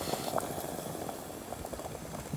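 Pine resin bubbles over low heat in a steady, close, continuous simmering burble with small pops.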